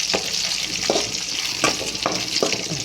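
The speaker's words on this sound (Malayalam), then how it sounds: "ഇപ്പം നമുക്ക് നല്ല ചൂടുള്ള എണ്ണ കൊണ്ട് ജീരകം പെട്ടെന്ന് അങ്ങ് മൂത്ത് കിട്ടുന്നത്" About half a spoon of cumin seeds fries in very hot oil with a close, constant crackling sizzle, and a spoon scrapes and stirs the pan in regular strokes roughly every second.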